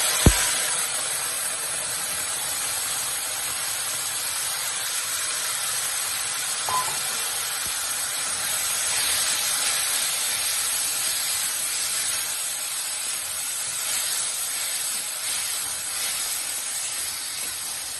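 Tomatoes and green chilies frying in a pan give off a steady, loud sizzling hiss that runs unbroken from start to finish, with a brief clatter at the very start.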